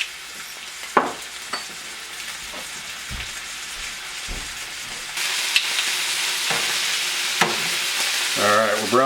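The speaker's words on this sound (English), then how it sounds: "We just want to get a nice sear on both sides of this." Beef ribs sear in a hot pan with a steady sizzle and crackle, stirring and handling noises cutting in, the frying growing louder partway through with no talk over it.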